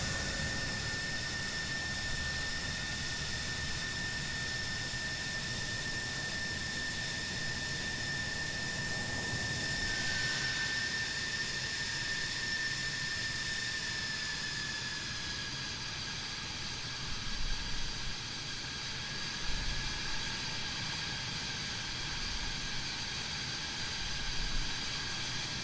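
An F-16 Fighting Falcon jet taxis toward the runway at Luke Air Force Base in Arizona, a loud steady engine whine and roar with a high-pitched tone holding throughout, joined by a few low rumbles near the end.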